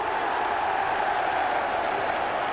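Football crowd at Highbury during a 1993/94 Arsenal home match against Manchester United, a dense, continuous roar of thousands of voices heard from a distance at steady loudness.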